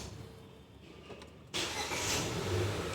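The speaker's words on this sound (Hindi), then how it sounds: "मार सेल्फ दोबारा।" Ford EcoSport, fitted with a replaced battery and engine mount, turning over on its self-starter and catching, jumping from a quiet cabin to a steady, smooth idle close by.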